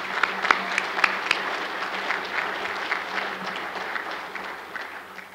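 A conference audience applauding at a RESNET 2011 general session, several sharp individual claps standing out at the start within a sustained wash of clapping that gradually thins and fades.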